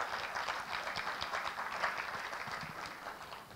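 Church audience clapping at a Christian benefit event, a soft, steady patter of many hands at a distance, sustained without talk.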